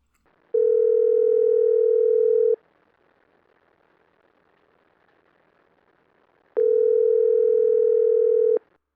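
Telephone tone on a recorded phone call, two long steady electronic tones of about two seconds each, separated by a four-second gap of faint line hiss, with no voices.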